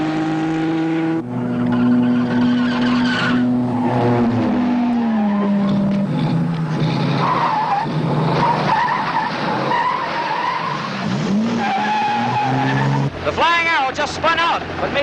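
A race car spins out with tires skidding and squealing on a curving road course, long wavering screeches over a revving engine, loud and close with a voice talking over parts of it.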